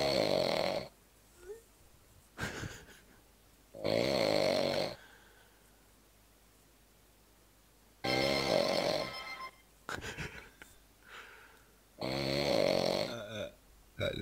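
A person who has nodded off late at night snores in loud, rasping bursts, about five long snores separated by quiet gaps, close to the listener with no talk.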